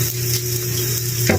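Fried rice with cabbage stirred in a hot pan, a loud close sizzle with a steady hum underneath and a scrape of the utensil near the end.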